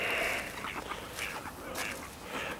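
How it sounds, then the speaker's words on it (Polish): Several ducks quack in short bursts, fairly near, eating bread on a pond in Gdańsk, over a steady outdoor background hiss with scattered calls overlapping. "No i mnóstwo kaczek jest."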